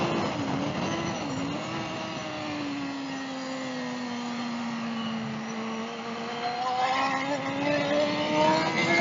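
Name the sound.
motorcycle engine downshifting while cornering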